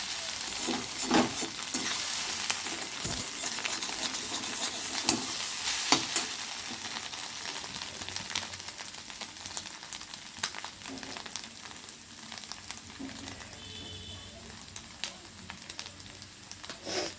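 Egg bhujia, a Bengali scrambled egg, fries in a pan with a continuous close sizzle, punctuated by scattered stirring clicks and scrapes and brief spatter pops, with no talk.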